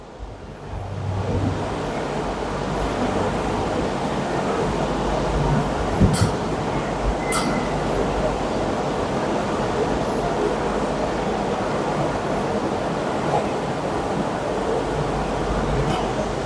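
A marble stone cutting machine's rotating wheel runs in a factory, giving a loud, steady, continuous grinding roar with a couple of brief sharper knocks partway through.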